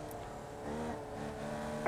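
Race cars in a Formula Knee event at Las Vegas whine past on a track, a steady engine drone with rising tones that swell midway, continuous and fairly close, with no talk.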